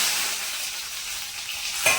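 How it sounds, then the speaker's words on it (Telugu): Dried red chillies sizzle in hot tempering oil, a dense, even hiss that holds steady throughout with a faint stir near the end; no one speaks. "ఇప్పుడు తాలింపు పెట్టుకున్నాను. ఫస్ట్ వెండి మిరపకాయలు వేసాను."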